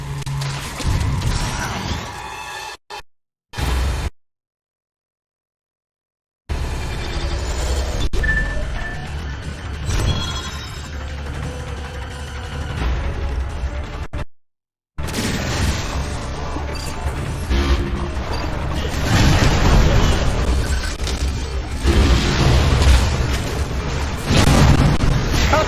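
Missile blasts and explosions in the Metroid: Other M video game, with loud booming bursts and crashes that pile up into dense, sustained combat noise, broken by a couple of short silent gaps.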